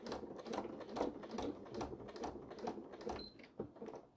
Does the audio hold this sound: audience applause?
no